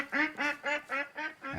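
Geese call loudly and close by, giving six evenly spaced, nasal honking calls in a steady rhythm with no other sound.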